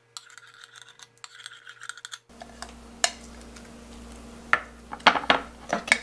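Kitchen scissors cutting a lettuce pancake, crisp snips and clicks arriving irregularly and close up after a quiet moment, growing busier toward the end.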